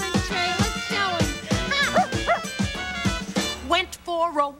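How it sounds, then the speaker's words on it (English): A dog barks in short, repeated yips and bow-wows close by, shifting into whining whimpers near the end, loud and alone without talk. "this is my dog, Trey."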